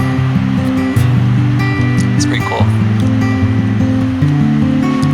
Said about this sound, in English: all this water coming down is directly from the glacier